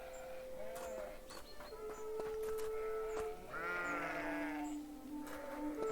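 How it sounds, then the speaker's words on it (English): Sheep in the horror embroidery video game Scarlet Deer Inn bleat in several wavering calls, mid-distance, layered over soft ambient music with tones and chimes. "Gotta pet the sheep."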